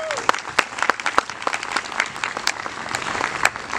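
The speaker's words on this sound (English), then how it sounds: "Give this organization a round of applause." An audience claps loudly and steadily for a children's music institute, with dense overlapping claps and sharp individual hand strikes standing out close by.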